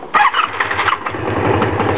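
A Honda Magna V65 motorcycle engine cranks and catches with no throttle, settling into a loud, close, steady pulsing idle after a brief uneven start.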